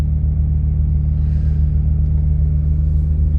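Honda J-series engine idling on E85 just after a cold start, a loud steady low hum with an even, continuous drone and no variation in pace.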